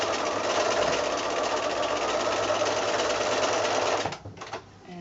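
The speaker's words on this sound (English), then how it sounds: "So I put my next corner on, and again sew on the longer diagonal line" A sewing machine stitches a quilt block along a diagonal line, running steadily and fast for about four seconds before stopping, close and loud with no talking.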